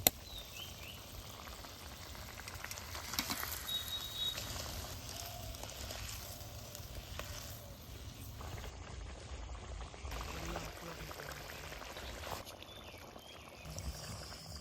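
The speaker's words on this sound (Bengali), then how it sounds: "ঝোল কিন্তু ভালোভাবে একদম ফুটে গেলে এ সময় দিব ভাজি থোয়া ডিম।" Fried boiled eggs going into boiling egg curry gravy, a continuous soft bubbling sizzle with faint splashes and stirring, fairly quiet and without talk.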